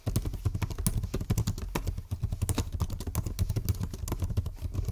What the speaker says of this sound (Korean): 키보드는 그냥 우리가 잘 아는 그 일반 노트북 펜타그래프 키보드 딱 그 느낌 정도라고 보시면 돼요